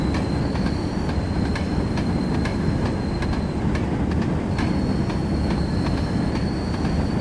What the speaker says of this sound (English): Beautiful to see the trains switch tracks.